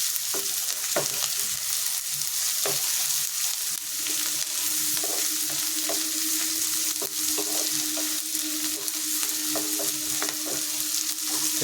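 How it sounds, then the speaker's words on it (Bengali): Onions fry in a pan with a continuous moderate sizzle, broken by intermittent clicks and scrapes of a utensil stirring them. "তারপর যে পেঁয়াজগুলি এরকম এরকম করে একটুখানি নাড়ি চাড়িয়ে দিতে হবে।"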